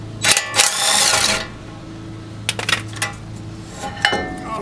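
Metal wheel hub bolts being backed out on a car with lug stud trouble, giving short clinking and ratcheting bursts of metal on metal, with quieter scrapes and taps trailing after.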